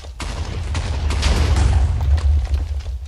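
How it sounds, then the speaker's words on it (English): Explosions tear apart an island in a Minecraft Sky Wars cannon battle, a loud rumbling barrage of overlapping booms and crackling blasts rolling on for about three seconds with no voices. "it's going to explode the entire island."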